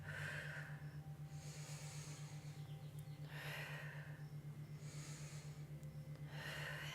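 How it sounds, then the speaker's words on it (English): Slow meditative breathing, steady breaths in and out through the nose, each a soft airy rush lasting about a second, close and quiet over a constant low hum, repeating at an unhurried pace. "I am breathing in. I am breathing out."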